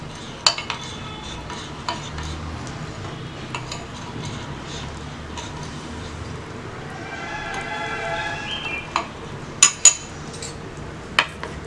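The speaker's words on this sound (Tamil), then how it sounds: "இதில் இப்போ நம்ம வந்து ஜலிச்சு வச்சுருக்கிற பவுடரை வந்து கலக்கிக்கலாம்." Sifted powder being stirred into a homemade chocolate mixture in a bowl: soft scraping and swirling at close range, broken by a few sharp clinks of the utensil against the bowl.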